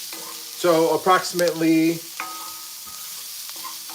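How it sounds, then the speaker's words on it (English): Onions and garlic fry in a pan with a soft, steady sizzle, partly covered by a person talking near the start, while a low murmur of cooking carries on beneath. "we're just letting this cook for a few minutes until the onions and garlic become fragrant"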